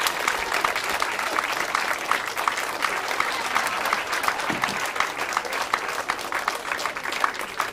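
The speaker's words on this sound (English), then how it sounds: "Thank you all for that great round of applause." An audience at a freethought day event gives a sustained round of applause, dense even clapping that holds steady and stays at moderate volume for the whole stretch.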